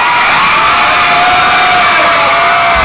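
A large crowd screams loudly and continuously, a dense high-pitched roar of many voices like fans at a concert.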